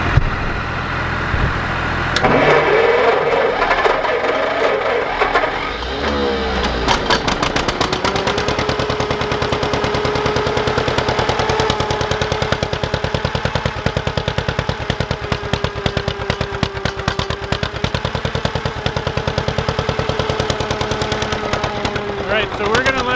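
A John Deere crawler dozer's engine idles steadily as it warms up on a chilly day, producing a continuous rapid mechanical clatter with a low hum, preceded by a louder rev in the opening seconds.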